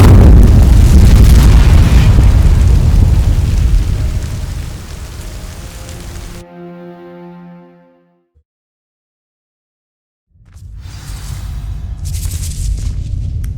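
An Incendio fire spell sets dry vines ablaze in the Hogwarts Legacy video game, a loud roaring, crackling burst of flame that fades into a tonal ring and then silence before a rumbling swell returns.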